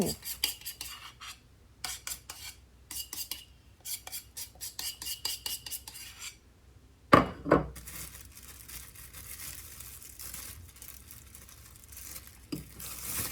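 Pumpkin batter for fried pumpkin snacks scraped from a bowl into a piping bag, with bursts of rapid utensil scraping and tapping, pauses between strokes, then a louder crinkling clatter and softer scraping.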